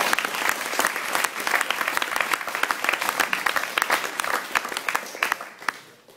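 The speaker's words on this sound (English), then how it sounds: "there's a massive round of applause needed for the teachers for the 7 years that have committed to us" A school audience at an award evening gives the teachers a long, dense round of clapping from many hands, loud and sustained before thinning and fading out at the end.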